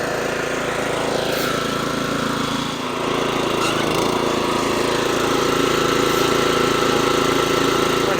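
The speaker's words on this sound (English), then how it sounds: "give it a little bit of throttle. Show you guys the actual cartridge spinning here." A 25-inch California Trimmer Catalyst reel mower engine runs steadily at light throttle with its verticut cartridge spinning, a constant close mechanical drone with a brief dip near three seconds.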